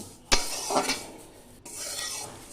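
Dry red chillies and whole cumin seeds are dry-roasted in an empty kadai, a loud scrape at the start followed by softer rasping stirring and a light crackle, close and without talk.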